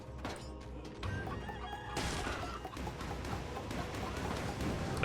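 A chicken clucking in Dead Cells, short fowl squawks and clucks over busy game sound effects and a sudden shift in background noise midway, no talk.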